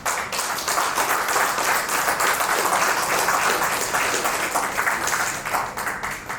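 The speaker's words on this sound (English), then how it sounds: "So please welcome him with a round of applause." An audience at an IP commercialization event gives a sustained round of applause to welcome a speaker, dense even clapping throughout at a moderate level.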